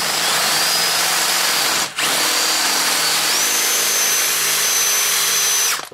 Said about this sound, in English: A blunt drill, that.